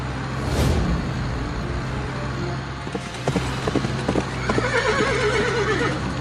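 A horse in a comic Indian race scene, with a loud whinny near the start followed by rhythmic clip-clop hoofbeats that grow busier, plus a fluttering neigh-like call toward the end, all fairly close.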